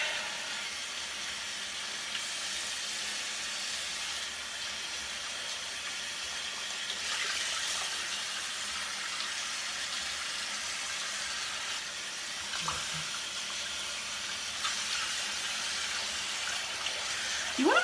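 Water runs steadily from a tap, a continuous hissing splash at moderate volume with slight changes in flow and a few faint knocks.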